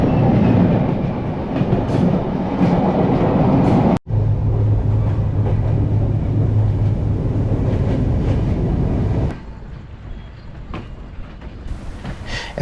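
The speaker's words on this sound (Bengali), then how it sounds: "জাহানাবাদ এক্সপ্রেস খুলনা স্টেশনে ঢুকছে।" The Jahanabad Express rolls through the night toward Khulna with a loud, steady rumble and rhythmic wheel clatter. A sharp break in the sound comes early, and a quieter, thinner passage follows near the end. Nobody speaks.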